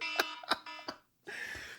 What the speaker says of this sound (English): I need to sound the alarm again.